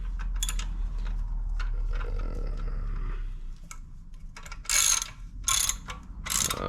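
A ratchet with a 14mm socket tightens a bolt on a Tao Tao DB10 dirt bike, giving quick bursts of sharp clicking close up, the last three bursts loud and crisp after softer mechanical handling.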